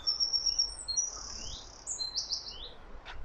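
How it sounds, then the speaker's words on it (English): Small birds sing and chirp in an overgrown cemetery with wrought iron railings, several high tweeting phrases and whistles overlapping over soft background noise, no voices. "The birds singing"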